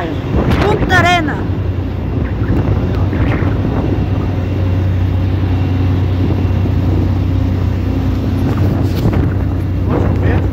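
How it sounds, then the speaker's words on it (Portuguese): Strong wind buffets the microphone at a ferry crossing on the Strait of Magellan, a steady loud roar with low vessel rumble underneath, and a person talks briefly near the start. "Nossa, o vento tá que tá, hein? Ventão."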